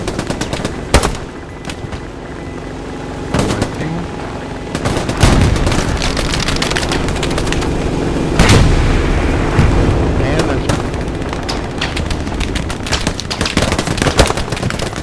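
Gunfire in the World War II shooter Hell Let Loose, dense bursts of rifle and machine-gun shots with heavier booms, loud and continuous, a voice talking over it.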